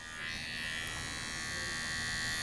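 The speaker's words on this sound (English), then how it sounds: "You're going to take your trimmer tool with a light hand" An electric beard trimmer runs with a steady, fairly faint buzz for a couple of seconds while shaping a short beard, close by and with no talking.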